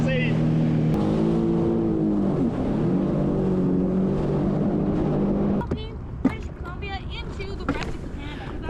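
A rented jet ski runs on the water near Vancouver, its engine droning with a shifting pitch under wind buffeting and splashes, then quieter choppy water noise with a voice speaking briefly near the end.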